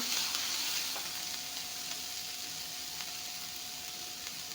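Onions fry in a pan for a home recipe, giving a soft, even sizzle that stays fairly quiet and constant, with a faint stir early on.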